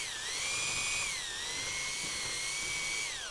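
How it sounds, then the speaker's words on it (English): A hand drill bores into wood to clear waste from a mortise, a sustained high whine rising and dipping in pitch as the bit works through the fibers, close and continuous with no talk. "you can remove some of that waste, either using a hand drill, just to tease those fibers out"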